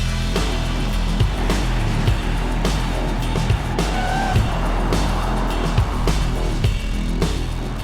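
A Porsche Taycan Turbo S electric sports car pulls away, giving a steady, fairly loud rush of tire and road noise over a low motor hum, with a few soft thumps and no talking.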